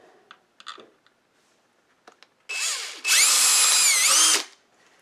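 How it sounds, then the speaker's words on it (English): A few faint clicks and taps, then a power drill whines up briefly and runs loud and steady for over a second drilling a pilot hole for a power switch in a Philco 41-105 farm radio, before stopping. "drill this hole here for the power switch. So we'll start out with a pilot hole."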